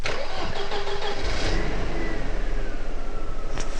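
A Mercedes W124 engine cranks and fires up close by, then settles into a loud, steady running rumble.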